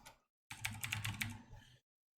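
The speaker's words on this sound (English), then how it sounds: "So I'll go and type that now." Password typed on a computer keyboard, a quick close run of crisp key clicks lasting about a second, alone in a quiet room.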